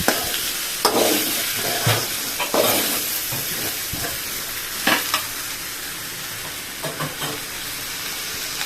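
Sweet mango pachadi sautéing in a pan, with a continuous loud sizzle and repeated spoon scrapes and stirring knocks spread across the whole stretch, close and without talk.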